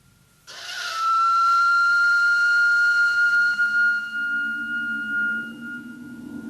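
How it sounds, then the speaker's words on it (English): One long, steady, shrill blast from an old whistle rings out clearly, held for several seconds before cutting off, followed by a faint low rumble. "this thing is quite obviously a whistle"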